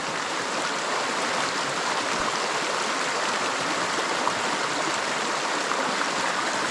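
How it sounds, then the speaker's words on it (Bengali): Steady, close rush of a forest stream near Thankowain waterfall in the Alikadam hills, broadband water noise flowing without pause, no one speaking. "পানির শব্দ শুনতে পাচ্ছেন"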